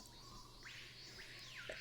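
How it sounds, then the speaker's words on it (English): Ambient birds and insects in a museum garden in the Nancy Drew video game Secret of the Scarlet Hand: faint, quick rising chirps over a soft, steady hiss of background buzzing. "there probably aren't that many birds and bugs in this museum garden. I call fake noise."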